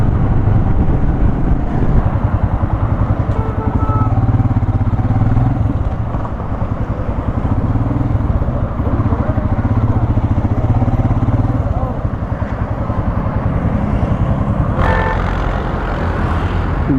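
Royal Enfield Himalayan motorcycle riding off-road near a dam, its engine droning steadily and loudly throughout with wind rumble, other bikes nearby.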